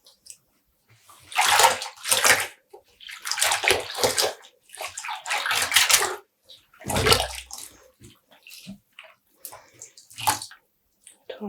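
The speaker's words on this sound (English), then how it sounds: "And we're squeezing out the water." Water splashes and drips in bursts as dyed yarn is squeezed out, several wet sloshing pulses close by with short pauses between them.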